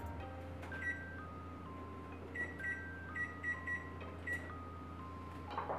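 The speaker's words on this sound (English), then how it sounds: "So the first thing I'm gonna do is get my oven turned on." A kitchen oven beeps as it is switched on and set, a run of short electronic tones and key presses in a quiet room, with no talk.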